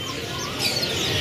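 Brief bright chirps from a canary, a few quick tweets close by over faint background noise.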